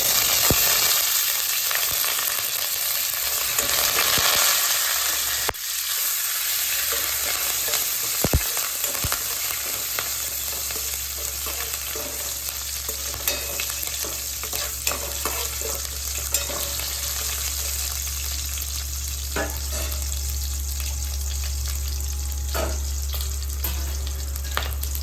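Continuous loud sizzling of blue crabs frying in a pan, with occasional clinks and stirring scrapes over nearly half a minute.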